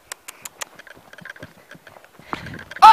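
Horse hooves clip-clopping in uneven, spaced beats during show jumping, fairly close, with a louder burst of activity at the end.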